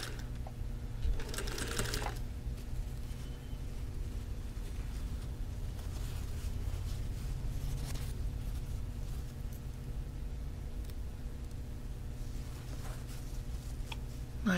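A sewing machine stitches laser-cut quilt block fabric in a steady, close, continuous mechanical hum, with a few brief handling rustles on top and no talking.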